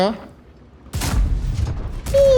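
In a tank video game, an FV4005 tank cannon fires a heavy, loud boom, followed about a second later by another blast, with a brief mechanical whine in between.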